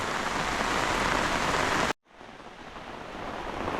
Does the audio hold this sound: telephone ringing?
no